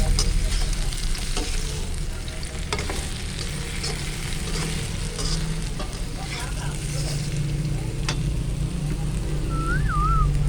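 Bananas fry in a pan with a dense, steady sizzle throughout, broken by occasional stirring clicks and a faint whistle-like tone near the end.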